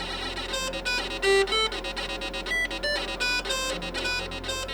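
An original 1981 IBM PC speaker plays a tune of thin, beeping square-wave notes in quick succession, tinny and close with a steady electronic hum beneath, no voices.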